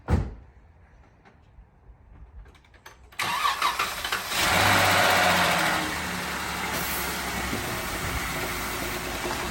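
An Audi car engine cranks and catches about three seconds in, then revs loudly before settling into a steady close idle, with faint clicks and shuffling before it starts.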